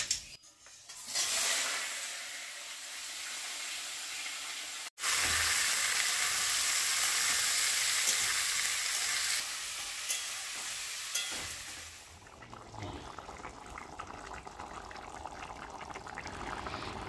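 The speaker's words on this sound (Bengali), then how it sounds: "আজকে রান্না করবো হচ্ছে কাঁচা কলার তরকারি" Raw banana curry with a few taro pieces and ground dried chillies sizzles steadily in a pan, with long stretches of hissing frying and stirring and a brief clatter partway through.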